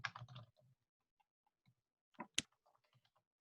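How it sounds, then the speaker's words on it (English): Quiet, sparse keystrokes on a computer keyboard during an online group call: a short cluster of clicks, a pause, then a few more taps, faint against near silence. "Sorry, I'm typing."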